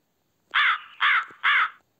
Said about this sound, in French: Le corbeau est un oiseau de couleur noire.